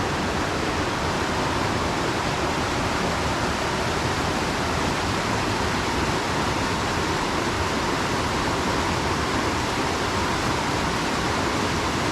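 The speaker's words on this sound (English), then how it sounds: "Now we'll take a little look at the creek." A creek on the Roaring Fork Motor Nature Trail in Great Smoky Mountains National Park rushes continuously in a steady, dense roar close by, with no voices.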